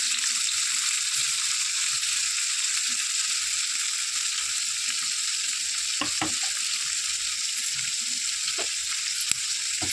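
Onions frying in hot oil give a loud, dense, continuous sizzle that holds steady throughout, with a few soft stirring knocks near the end.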